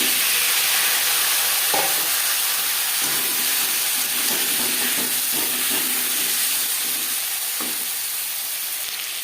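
Potatoes fry in oil left from frying fish, seasoned with Bengali five-spice, making a loud, dense, continuous sizzle with a few faint knocks from stirring.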